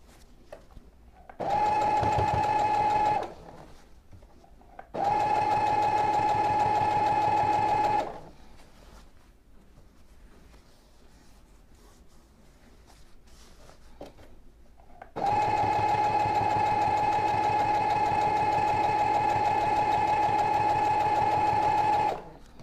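A sewing machine stitching a baby pillowcase dress at a medium stitch pace hums loudly and evenly in three runs: two short ones close together, then a long steady stretch after a quiet pause.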